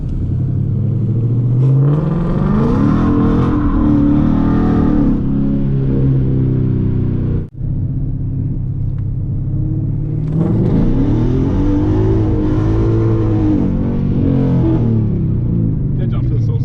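Ford Mustang GT engine revving hard during street drifting, a loud rumbling roar that climbs and falls in pitch, cuts out briefly, then surges again, with voices talking over it.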